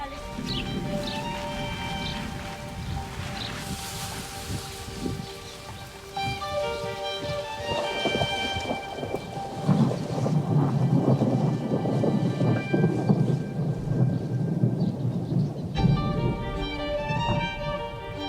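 A heavy thunderstorm with steady loud rain and rolling thunder, dense and continuous throughout, heard outdoors at a hotel with no voices.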